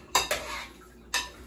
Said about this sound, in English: I'm just mashing mine with a spoon.